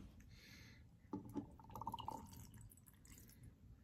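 Water runs from a sink tap into Frozen 2 snow globes as they are filled, a soft steady trickle and drip that swells briefly midway, heard alone without talk.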